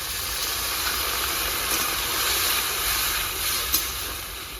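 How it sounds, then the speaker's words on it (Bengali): Water poured into a pot of chicken cooking in a village-style gravy hisses steadily, a broad, even steam-like rush that holds for several seconds with a small pop near the end and no voices. "হাফ বাটি একটু জল দিয়ে দেবো"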